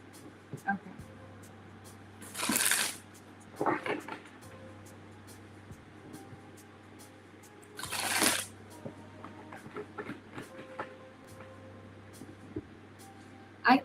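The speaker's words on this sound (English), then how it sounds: "I feel like I'm shuffling the cards to you" Tarot cards are shuffled in two short, crisp riffling bursts several seconds apart, close to the microphone, with faint handling rustles and quiet room hum between them.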